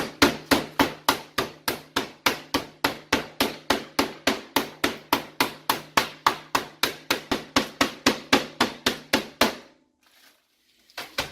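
Pork being pounded flat inside a bag with the flat side of a mallet for schnitzel: about thirty loud, evenly spaced thuds in a steady rhythm, then quiet.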